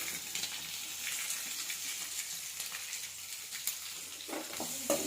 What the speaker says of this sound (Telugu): ఇలా గోల్డెన్ బ్రౌన్ కలర్ వచ్చే వరకు వేయించాలండి వాటిని వెల్లుల్లిని వెల్లుల్లి ఆవాలు ఎండుమిర్చి